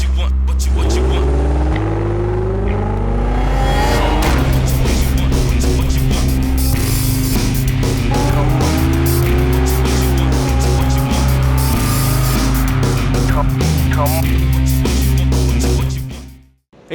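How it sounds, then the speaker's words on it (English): A V8 Supercar in the iRacing simulator laps Donington during an online race, its engine droning loudly and steadily as it revs up and down through the gears. Someone talks over the engine the whole time. "This is the V8 Supercar at Donington, and this was a Wednesday night race."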